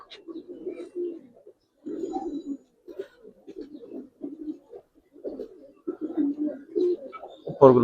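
A large colouring Giribaz pigeon coos repeatedly up close, its low, rolling phrases rising and falling in uneven bursts with short pauses, a faint voice briefly in the background.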